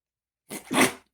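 A single sharp sneeze, close and fairly loud, with a short intake burst before the main explosive release.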